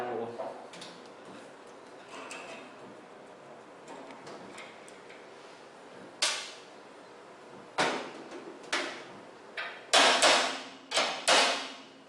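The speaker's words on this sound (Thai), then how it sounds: "ถอดสกรู" A screwdriver and hand tools work screws loose from the burner of a LuckyFlame SA-802 gas stove. Quiet ticking and handling give way to several loud, sharp metallic knocks and clatters close by in the second half.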